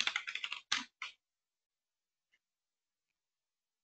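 A quick run of computer keyboard keystrokes while logging in, a rapid cluster of clicks followed by two separate taps, then near silence with one faint tap later.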